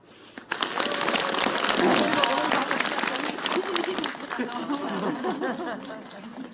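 A crowd applauds a newly ordained priest in a Catholic church courtyard in the evening, steady dense clapping that swells quickly and then slowly fades, with some laughter and voices mixed in.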